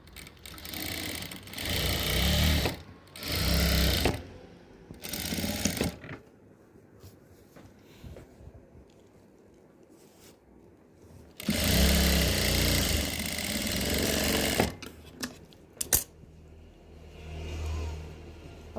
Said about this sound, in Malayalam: ഇനി നമുക്കത് തിരിച്ച് ഇതിൻ്റെ താഴെ ഭാഗമൊന്ന് സ്റ്റിച്ച് ചെയ്ത് കൊടുക്കാം